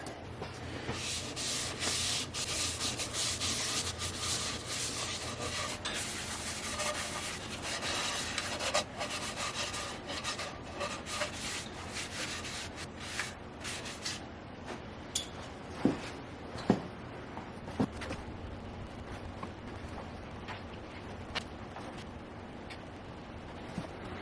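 Sandpaper rubs back and forth on wood in steady strokes, a dry scratchy rasp, followed by lighter scattered scrapes and a few small knocks.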